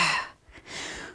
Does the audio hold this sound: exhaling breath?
yes